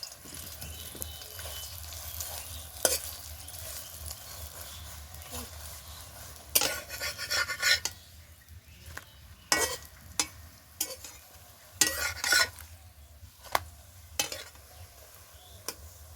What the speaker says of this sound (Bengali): এবার উল্টে দেব ওপর দিয়ে সামান্য একটু তেল দিয়ে দেব এই পরোটাগুলো ভাজতে কিন্তু খুব বেশি তেল লাগবে না